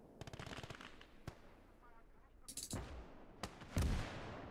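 Gunfire in the WWII strategy game Call to Arms - Gates of Hell: Ostfront, with a rapid burst early on, then scattered sharp single shots and a heavier blast near the end, mixed with other battle noise.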